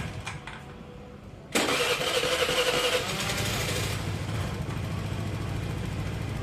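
A Honda Vario scooter engine catches abruptly after a quiet start and runs loudly up close, revving briefly before settling into a steady, rough idle; no one talks over it.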